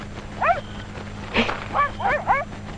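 Short, high yips and whimpering barks from a dog in a 1968 film adaptation of Tom Sawyer, a few brief calls spaced over a couple of seconds against a faint background hum.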